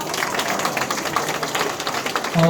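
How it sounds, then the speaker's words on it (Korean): Group applause from participants at a church revival meeting's small-group practice session, a steady wash of many hands clapping together at moderate volume, ending with a brief tone. "박수 한번 칠까요?"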